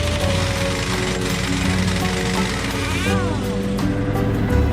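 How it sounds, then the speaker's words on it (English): Chicago Pneumatic 1-inch pneumatic impact wrench on a semi truck tire, run from an older service truck's compressor: a loud, continuous rattling hammer that holds steady throughout, with a brief whine partway through. "your next best thing is a Chicago Pneumatics 1-inch impact to get the job done"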